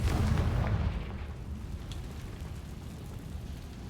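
A single muffled boom from the Confringo spell in the video game Hogwarts Legacy opens the moment, then fades into a low, quiet rumble with faint background ambience and no talking.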